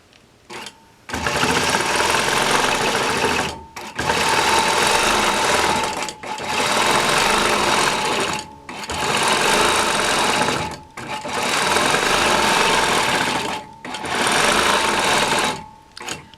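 A longarm quilting machine stitches continuous curves across a pointed star quilt with a fast, even mechanical whir. It runs in five bursts of a few seconds each, separated by brief pauses.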